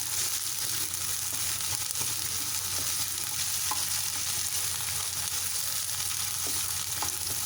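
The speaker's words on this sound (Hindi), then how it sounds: "बस ये हल्के से फ्राई हो गए हैं" Carrots and raisins fry in a pan for Afghani rice, giving a steady, dense sizzle that holds evenly throughout with faint stirring clicks and no talking.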